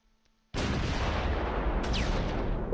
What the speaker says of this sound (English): we're engaging the infantry to the east with the machine gun